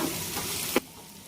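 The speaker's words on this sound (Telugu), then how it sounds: "ఇది వేసిన తర్వాత పచ్చివాసన పోయే వరకు దీన్నైతే ఈ విధంగా ఫ్రై చేసుకోవాలి" Onions frying with ginger-garlic paste in a pan for a cabbage curry, a soft steady sizzle with a brief louder stir or scrape near the end before the sound drops away.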